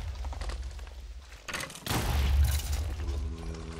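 Creeper explosions in a Minecraft-style video game: a series of muffled booms and bursts, including a heavier blast in the middle, followed by a fainter rising game tone, with no talking.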